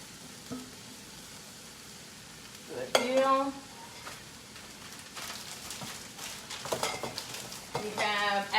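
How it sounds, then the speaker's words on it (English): Chickpeas cooking in a pan for buffalo chickpea taquitos give a soft, quiet sizzle with a few stirring scrapes, interrupted by brief bursts of speech. "now I'm gonna go ahead and get our chickpeas in there"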